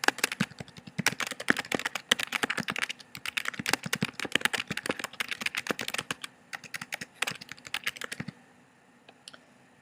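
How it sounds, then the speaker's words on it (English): Rapid, uneven keystrokes on a computer keyboard clatter steadily and close up for about eight seconds, then stop, leaving near silence with a couple of faint clicks. "I'm just going to type something so that I have something to work with"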